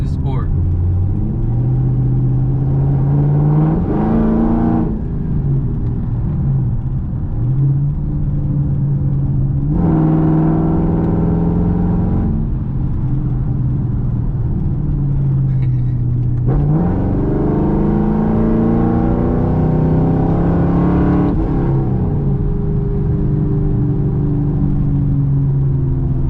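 A modded Chevrolet Camaro SS in sport mode accelerates hard from inside the cabin, its loud engine rising in pitch through repeated gear pulls with brief drops between shifts, while people talk over it.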